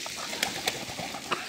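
Pigeons being cared for coo softly in the background, with a few quick bursts of wing flapping cutting in over a low ambient hum, fairly faint and without speech.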